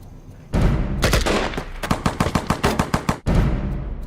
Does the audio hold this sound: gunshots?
yes